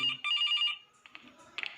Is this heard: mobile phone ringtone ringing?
yes